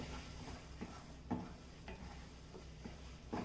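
Carrot laddu mixture with sugar being stirred in a pan, a soft continuous scraping and sizzling with a few louder spoon knocks against the vessel, steady and close, with no talking.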